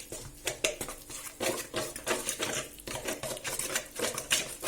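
Spoon stirring a homemade modelling-dough mixture of dish soap and sunflower oil in a bowl, giving close, irregular scraping and tapping clicks that run continuously with no talking.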